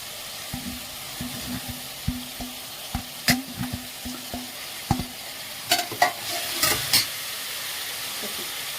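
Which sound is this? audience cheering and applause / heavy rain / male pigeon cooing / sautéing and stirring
sautéing and stirring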